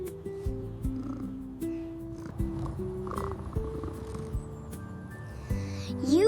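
A cat purrs steadily while held gently, a close, rhythmic low rumble running throughout with a few small snorts and faint background noises.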